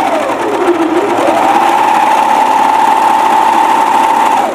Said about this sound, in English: And sew right off the edge